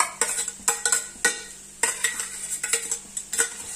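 Dabeli masala mixture with mashed potato being stirred in a pan, a spoon scraping and tapping against metal in quick irregular strokes, close and fairly quiet with faint sizzling beneath.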